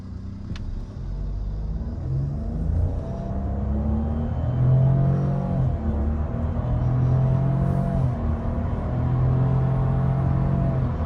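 A Renault Clio 5 Icon pulls away hard in sport mode, its engine note rising loud and close, easing as the gear changes, then climbing again with a low rumble beneath.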